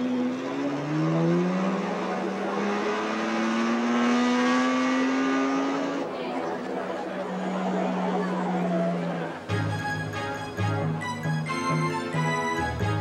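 Car engines revving at Disney World with rising, sweeping engine tones that build for several seconds, then give way to a brighter mechanical or musical pattern near the end.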